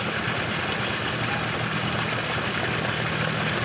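A motor engine, apparently a small farm motor or tractor engine pumping water into a field, runs steadily at a low idle with no breaks, a dense constant drone throughout.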